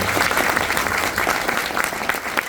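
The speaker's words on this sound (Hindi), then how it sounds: "आप सब के लिए एक जोरदार ताली होनी चाहिए।" A seated audience at an awards and achievers event in Mumbai bursts into loud, continuous applause. The dense clapping holds steady for the whole short stretch.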